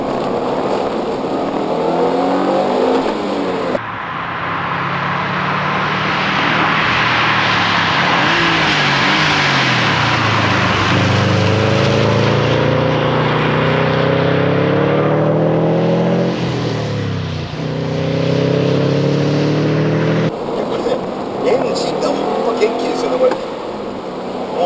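A Subaru Impreza GC8 with an EJ20 engine revs hard and accelerates with a throaty, rising roar that shifts pitch through gear changes, loud and close, inside the vehicle.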